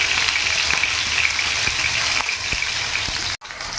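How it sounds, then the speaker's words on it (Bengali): Paneer pieces shallow frying in a pan for palak paneer, a loud, dense crackling sizzle running continuously up close, with a few sharp spatula knocks and a brief dropout near the end. "পনিরগুলো আমি একটু শ্যালো ফ্রাই করে নেবো।"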